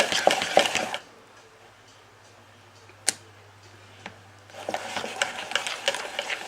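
Cream is whisked into butter in a bowl, a rapid rattling whir of beaters against the bowl at the start and end, with a quiet hum, a single clink and a tap in between.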